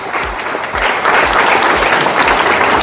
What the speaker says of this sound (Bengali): জোরে হাততালি, জোরে জোরে